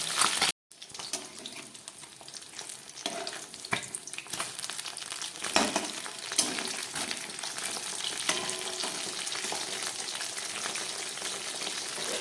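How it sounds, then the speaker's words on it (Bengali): Katla fish frying in a pan over low heat, a continuous crackling sizzle with occasional stirring scrapes and a brief gap of silence near the start. "মাছগুলোকে গ্যাস কম করে খুব ভালো করে আমি ভেজে নিচ্ছি"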